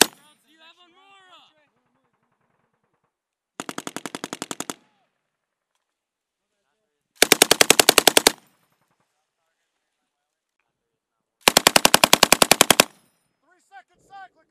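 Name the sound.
machine gun firing rounds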